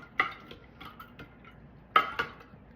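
Clean wooden spoon stirring in a container, a few light clicks and knocks against the sides in quick succession, close and quiet.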